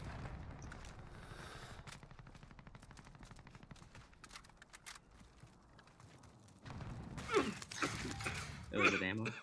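Sniper gunfire rings out during a video game firefight: sharp cracks and rapid bursts of shots, moderately loud, with mechanical clatter and people talking over the action.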